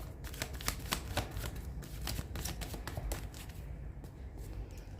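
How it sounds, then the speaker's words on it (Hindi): Tarot cards shuffled by hand, a continuous close patter of riffling card flicks with brief pauses, quiet and alone. "लास्ट शफल एंजल्स जो कार्ड देने हो प्लीज दे दीजिएगा।"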